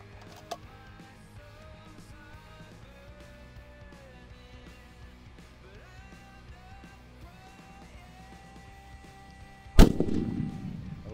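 A single loud, close crack from a 6.5 PRC Savage rifle fired at long range. The shot rolls out into a long fading echo after a quiet stretch with faint background sounds.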